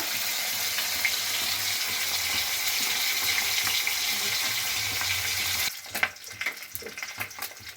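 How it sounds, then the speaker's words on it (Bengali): Pieces of pona fish fry in well-heated oil in a pan with a steady, loud, close sizzle that drops off near the end into quieter crackling and light clatter as the pieces are turned. "এভাবে উল্টে পাল্টে ভালোভাবে আমি ভেজে নেব"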